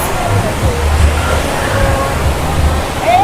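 Ocean waves wash onto the sandy beach at Pandan Carita, Anyer, as a steady, broad rushing roar that never lets up across the clip, with faint background voices from a busy shore.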